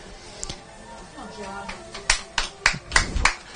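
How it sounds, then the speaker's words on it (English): Spectators at an inaugural DSD Games athletics meet clapping for a runner, a scattered handful of sharp, close claps growing denser toward the end over faint background murmur. "Let's give him a bit of a cheer, guys, so as to keep him going fast"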